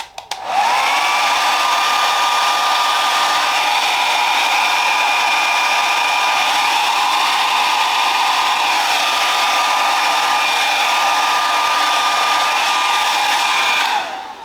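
A hair dryer blows steadily on a hair system while a round brush styles the front into a textured quiff, one continuous loud whir running alone for about fourteen seconds.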